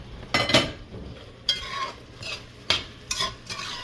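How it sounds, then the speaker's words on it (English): Saltfish being stirred into a pot of seasoned rice, a spoon scraping and turning in a few quiet, separate strokes with a faint sizzle underneath, close up and without talk. "stirred in the saltfish. It's all nice and mixed in."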